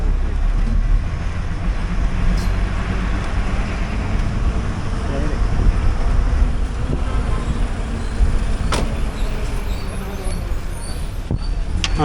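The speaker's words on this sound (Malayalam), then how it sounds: "മേട്ടുപ്പാളയം മെമ്മോ ആണ് പോയത്." A Mettupalayam MEMU train rolls past, a steady broad rumble of rail cars blending with road traffic noise throughout, heard near a road and bus stand on the way from Palakkad toward Ooty.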